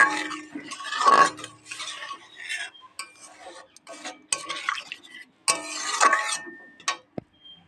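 Okra and potatoes being stirred in a pan with a utensil: irregular bursts of scraping and metallic clinks separated by short quiet gaps, close, with a faint sizzle and no talk.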